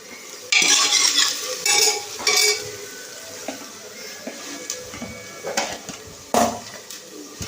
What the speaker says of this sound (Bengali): পেঁয়াজটা ভাজা হয়ে যাক।